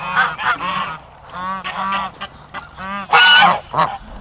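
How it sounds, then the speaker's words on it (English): Farm geese honk repeatedly at close range, loud nasal calls coming in overlapping bursts with short pauses between them. "The ducks and geese love it."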